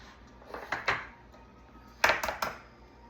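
Farm fresh eggs cracked one at a time for chocolate bundt cake batter: two clusters of sharp shell taps and cracks, close and moderately loud, separated by a quiet pause.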